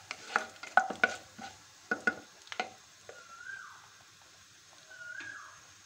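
Cumin seeds and dry whole spices frying in hot oil in a pan for an egg and potato curry, with close stirring scrapes and sharp crackles clustered in the first half, then softer hissing sizzle with brief whistling tones, no talking.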